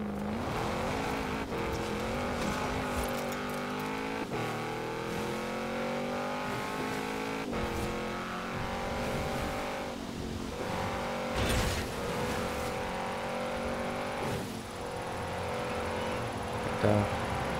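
A car engine drives steadily in the Forza Horizon 4 racing game, droning loud and continuous with rising and falling revs as it shifts through gears, with a brief louder burst near the end.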